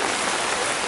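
Rain pours steadily in Ngawi, Watualang, a dense, even hiss with no breaks and no voices.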